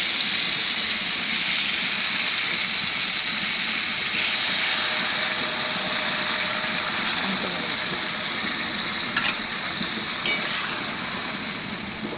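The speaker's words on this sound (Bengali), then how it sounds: "এবার আমি এর মধ্যে দিচ্ছি জল" A small splash of water going into a pan of katla kalia, a Bengali rohu-style fish curry, giving a steady frying hiss and sizzle with a couple of brief clinks near the end.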